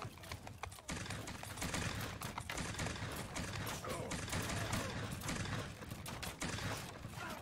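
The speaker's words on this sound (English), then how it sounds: "I want volley after volley!" Musket volleys crackle in Bannerlord Gun & Powder as massed infantry fire at will, a dense, fairly faint rattle of overlapping shots rolling on steadily with scattered sharper cracks.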